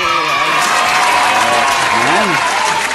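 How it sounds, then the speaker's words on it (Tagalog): A crowd at a barangay daycare feeding event applauds steadily throughout, the clapping dense and continuous, with voices cheering and speaking over it. "Palakpak! May palakpak!"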